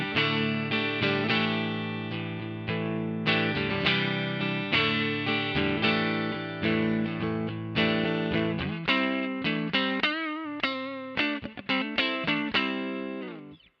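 Electric guitar played through a Victory V40 amp on a clean tone with a touch of reverb, strummed chords and picked notes ringing out in phrases, then a quicker run of single notes, with no talking.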